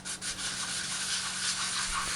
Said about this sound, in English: so I used a surface plate to finish it